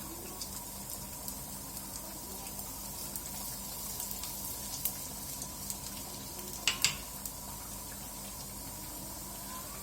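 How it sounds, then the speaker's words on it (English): Garlic for a dal makhani tadka sizzling in smoking hot oil, a steady, fairly soft crackling hiss throughout with a couple of sharper pops near the end. "So that the oil's smoking now. I'm just going to add the TADKA. In goes garlic."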